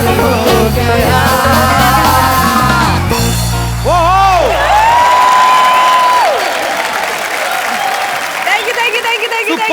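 Studio audience at a Hindi comedy show breaks into loud applause and cheering as a song ends, dense clapping with whoops swelling over fading music and continuing strongly to the end.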